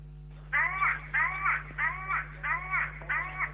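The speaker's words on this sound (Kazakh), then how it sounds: "Алла деп азан шақырған құстың дауысы тұнық ауада шартарапқа жақсы естілетінін айтады" A crow in Karaganda calls five times in an even rhythm, each cry a wavering, voice-like wail sounding like "Allah", over a constant low hum.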